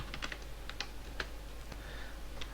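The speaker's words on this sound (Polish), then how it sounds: "Wpisujemy polecenie Rails Server, tak." Someone types a command on a computer keyboard: a quick run of close, quiet key clicks over a low hum.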